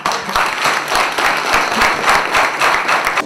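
A crowd claps warmly at a campaign meeting in Vanadzor, brisk, dense applause holding steady throughout without speech over it.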